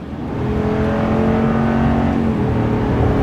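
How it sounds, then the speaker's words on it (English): A RAM 2500 pickup with a HEMI engine accelerates, its steady engine drone rising in pitch as it pulls, loud and close with no talking. "this HEMI just picks up and goes"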